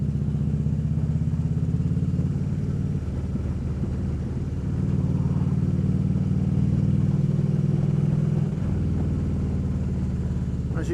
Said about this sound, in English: As you can hear, you know, rolling off the throttle at 30 miles an hour, third gear, no deceleration pop whatsoever.